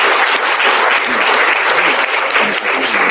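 A conference audience claps loudly and continuously for the speakers after a session, dense close applause with no pauses.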